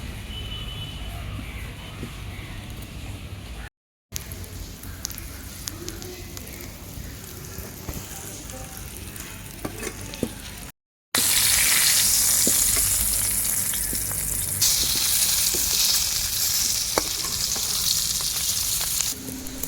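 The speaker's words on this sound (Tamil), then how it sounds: "கொஞ்சமாக நம்ம எண்ணெய் ஆட் பண்ணி நம்ம புதிஞ்சு வச்சுருக்கிற அந்த மீனை வந்து எடுத்து ஃப்ரை பண்ண போகிறோம்" Leaf-wrapped fish, Kerala-style pearl spot pollichathu, fries in oil with a steady close sizzle that grows louder and brighter in the second half, broken by two brief silent gaps.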